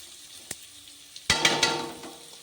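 Tomato curry ingredients hit a hot pan with a couple of light taps first, then a sudden loud sizzle erupts and keeps crackling close up, with no voices.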